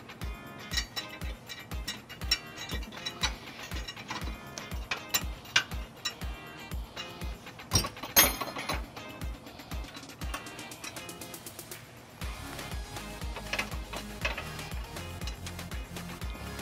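A 1/2-inch ratchet with a 19mm socket snugs trailer hitch bolts into weld nuts on a 2006 Jeep Grand Cherokee, giving rapid, close clicking in repeated bursts with short pauses and a denser ratcheting run near the end.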